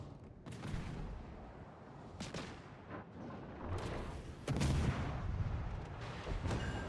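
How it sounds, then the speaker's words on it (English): Photon torpedo hits in the Star Trek Legends video game, a series of muffled booming impacts and bursts over a dense rumbling background, several sharp hits spread across the stretch. "Torpedoes to starboard. Torpedoes to starboard. Oh, did you get a hit?"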